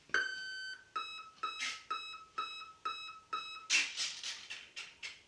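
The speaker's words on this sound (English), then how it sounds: "Listen for a beep." A series of sharp electronic beeps from an E-Flite F-4D Phantom II 80mm EDF model jet's electronic speed controller during throttle calibration, about ten in a row, some tonal and some buzzier, repeating steadily at close range with no talking.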